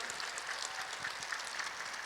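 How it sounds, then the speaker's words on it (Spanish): A congregation applauds for Jesus and Mary at a religious gathering, a quiet, dense patter of many hands clapping together without a break, with no voices over it. "Le damos un fuerte aplauso a Jesús y a María."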